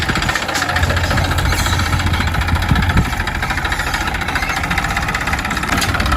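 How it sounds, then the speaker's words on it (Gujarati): A tractor engine rumbles at a steady idle, its low knocking throb continuous and fairly loud throughout. "આપણા ખેતરમાં ટ્રેક્ટર આવે છે"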